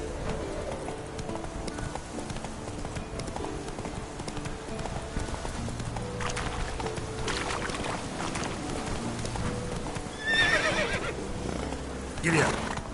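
In Witcher 3, a horse gallops with steady clip-clop hooves while it neighs and whinnies over game ambience, and a rider's voice urges it on.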